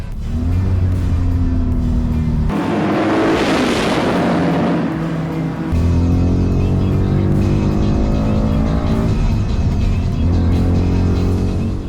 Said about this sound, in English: There are very few things in life that sound better than a well-tuned V8.